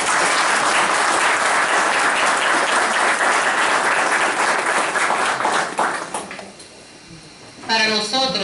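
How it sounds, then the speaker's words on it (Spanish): A crowd at an International Women's Day commemoration claps in loud, sustained applause for about six seconds, then it fades out and a voice begins speaking. "Recibamos con un fuerte aplauso esta conmemoración."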